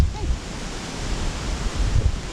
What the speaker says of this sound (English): The sea does look choppy today, doesn't it?